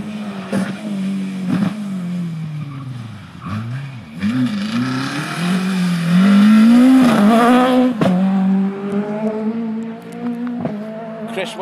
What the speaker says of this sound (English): the awesome sounding and looking Peugeot 306 Maxi Kit Car 2000